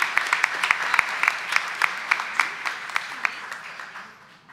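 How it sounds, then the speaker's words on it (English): An audience at a board of education meeting claps in a short burst of applause that starts moderately loud and fades away over a few seconds. "So once again, a little round of applause for everyone."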